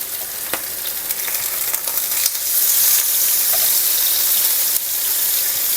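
Salmon fillets frying skin-side in a pan with olives and capers give off a loud, steady hiss and sizzle with scattered crackles and pops, uninterrupted throughout.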